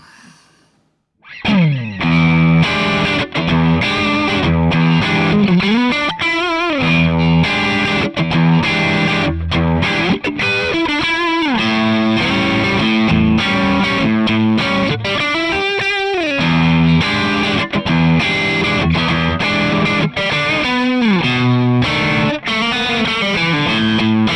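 Distorted electric guitar through a Marshall-style Kemper amp profile, played on the neck pickup, with continuous loud chords and lead lines, bends and slides over about twenty seconds.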